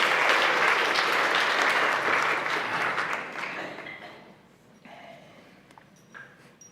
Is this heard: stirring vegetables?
no